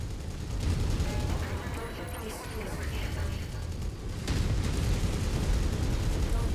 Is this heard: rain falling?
no